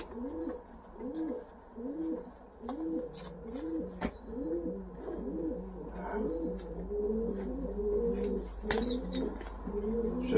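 Domestic pigeons in a breeders' loft coo steadily in repeated rolling phrases, several birds overlapping close by, with occasional faint chirps and a few sharp clicks.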